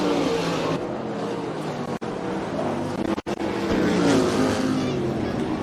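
Race cars roar around the dirt oval at Rapid Speedway during a ladies night feature, engines droning steadily and close with a brief cut-out, under a race announcer's running commentary.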